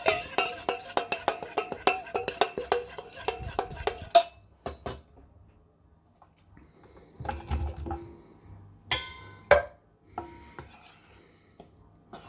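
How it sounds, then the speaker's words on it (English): Ginger, garlic powder and jackfruit are mixed in a pan with a utensil, giving rapid scraping and clinking strokes for about four seconds, then sparser scrapes and knocks with quiet gaps between them. "And I'm just going to mix that up and add the jackfruit."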